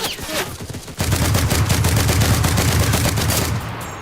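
Heavy-recoil automatic gunfire in the Enlisted shooter game, a loud, fast, continuous burst starting after a short pause and running for about two and a half seconds, close and dominant.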